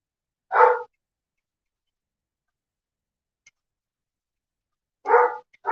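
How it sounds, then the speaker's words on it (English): Dogs bark in short, single yaps, one near the start and another pair near the end, separated by long silence, moderately loud against a quiet background. "Oh my god, the dogs."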